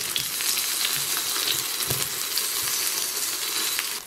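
Sesame paste flatbread cooking on a hot griddle, giving a steady, dense sizzle that holds throughout with a few faint clinks and crackles, close and even.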